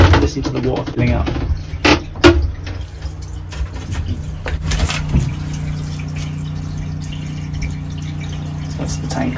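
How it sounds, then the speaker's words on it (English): Water runs steadily into a tank aboard a narrowboat, a constant low rushing with a pump hum beneath, while a person talks over the start amid some clattering. "That's the tank filling up."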